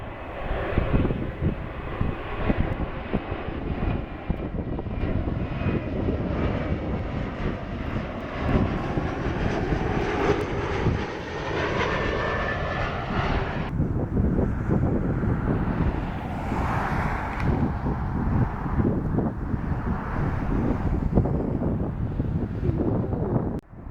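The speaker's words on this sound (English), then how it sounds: "we have an Air Canada E175" An Air Canada Embraer E175 jet roars loudly and steadily at Dulles airport, its engine whine holding strong before the tone shifts partway through, with some wind buffeting the microphone.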